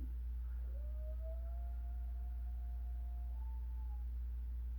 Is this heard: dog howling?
yes